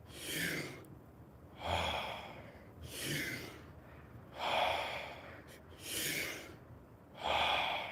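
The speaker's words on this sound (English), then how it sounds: "just breathing fully in and then letting go of the breath" Slow, deliberate breathing through the mouth, with five or six full inhales each followed by an audible release of breath, spaced evenly, close and quiet, with no talking.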